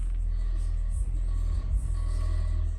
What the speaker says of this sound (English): for such a cheap sub, definitely has the car rattling and even flexing a little bit